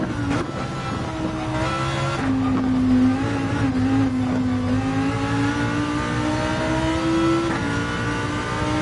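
A car engine in Gran Turismo 7 revs and accelerates hard, its tone climbing steadily through gear changes, loud and continuous with no talking.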